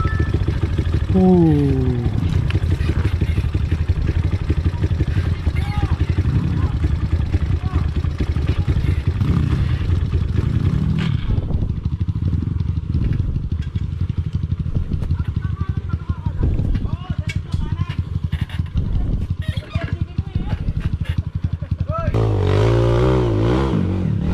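A trail motorcycle on an uphill dirt trail in Montalban runs throughout, its engine droning and revving with rising and falling pitch, loud and close, while someone talks over it.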